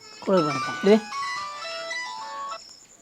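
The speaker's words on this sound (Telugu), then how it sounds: "కోడలు ఫోన్ చేస్తుందిరా." A brief voice, then a sustained electronic melody of steady synthesized tones plays for about a second and a half, like a phone ringing.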